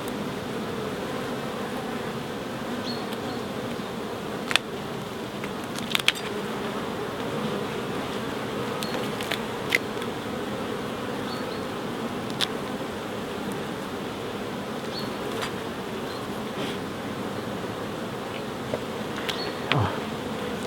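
Dense, steady buzzing of many bees around an open hive, close and continuous, with occasional soft clicks and bumps over the drone.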